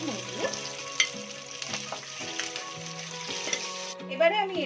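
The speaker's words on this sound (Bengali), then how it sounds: "মুড়ো লাল লাল করে ভাজা হয়ে গেছে" Fish heads fry in oil for a spicy Bengali fish-head and rice dish, giving a steady sizzle under background music with clinks of a utensil against the pan.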